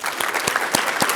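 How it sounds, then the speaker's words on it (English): Brief applause from the audience at a breakfast annual meeting, with a few distinct close claps standing out over a dense patter of clapping. "Another round of applause for Quinn."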